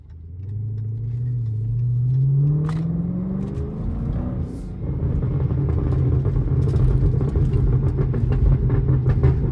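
A Chrysler 300 SRT driving through city streets gives a close, loud engine note that rises as it accelerates, dips briefly, then settles into a steady deep rumble.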